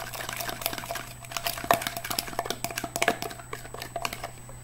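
Raspberry juice being stirred into homemade paint, a close series of small wet clicks and liquid swishes from mixing in a container, quiet and irregular with faint background hum.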